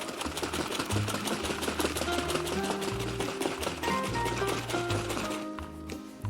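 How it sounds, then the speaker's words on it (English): Flour, water and oil batter being shaken or whisked in a container for pot sticker searing, a rapid, steady run of rhythmic tapping and rattling strokes that continues for several seconds, fairly close. "Put it in this container, give it a nice shake or whisk."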